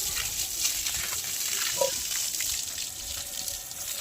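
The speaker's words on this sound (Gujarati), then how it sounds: "ગાયને નવરાવાનું કેદુનું હતું તે આજે જો નવરાવે નળી નાખીને" A water hose runs over a cow during a bath at home, a steady, close rushing spray of water that holds level throughout with no talking.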